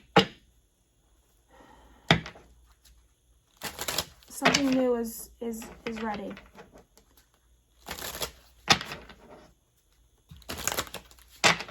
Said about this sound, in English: I don't know why I'm shuffling these.